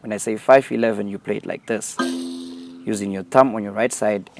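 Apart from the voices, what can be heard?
No everyday noise stands out behind the speech.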